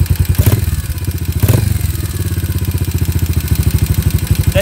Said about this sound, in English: That idle is probably hanging a little bit too much for what I'd like